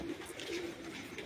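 Pigeons coo on a rooftop, soft low murmuring calls under steady wind-like background noise over a brief moment.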